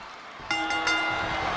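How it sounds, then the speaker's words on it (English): Video game arena crowd in WWE 2K26 roars up suddenly partway through, a loud sustained cheer holding steady after a quiet lead-in. "Cheering for Rusev."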